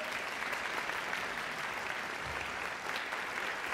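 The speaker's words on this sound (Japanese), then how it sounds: "演奏家の皆さん、 大きな拍手をお送りください。" Sustained applause from a concert audience after a performance by three pianists, dense and even clapping that continues steadily throughout at moderate volume.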